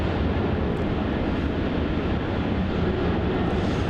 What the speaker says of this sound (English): So that's going to be Virgin Australia flight VA195 going off to Nandi.